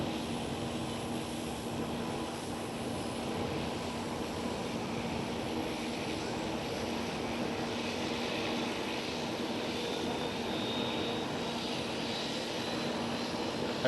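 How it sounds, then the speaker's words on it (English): KLM Airbus A321neo jet at Amsterdam Schiphol airport, a continuous broad engine roar heard from a distance, steady and moderately loud for about fourteen seconds with no voices. "There goes KLM A321neo."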